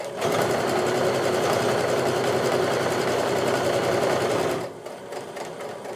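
A sewing machine runs steadily, stitching a quarter-inch quilt seam with a continuous close whir for most of the clip, then slows and drops in level near the end.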